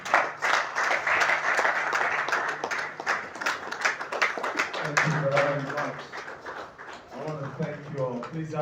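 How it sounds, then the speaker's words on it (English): Applause from a book launch audience swells into a dense, steady patter of clapping that lasts several seconds, with voices talking underneath toward the end. "Ladies and gentlemen, please a round of applause for the one and only Dr. Stephen Akintayo."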